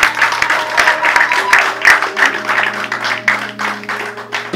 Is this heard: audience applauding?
yes